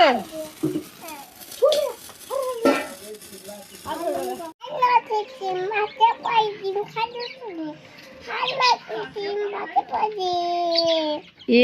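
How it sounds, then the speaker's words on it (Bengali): Hens cluck and cackle repeatedly close by after one lays an egg, while children chatter and call out over them. "ওটা মুরগি ওই দেখ মুরগিটা তো ডিম পেড়ে দিল"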